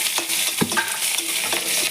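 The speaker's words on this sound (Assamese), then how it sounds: "অকণমান ভাজি ল'ম" Panch phoron spices and chillies fry in hot oil in a kitchen pan, a steady close sizzle broken by the scrape and knock of a spoon stirring, with no voices.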